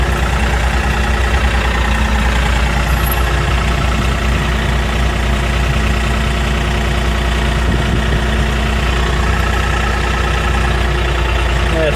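A tractor engine idles loudly and steadily up close, a deep continuous rumble with a faint rhythmic throb and no pauses.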